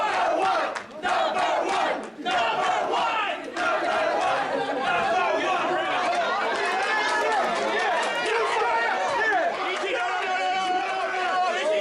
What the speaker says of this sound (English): the noise from this crowd at the Columbia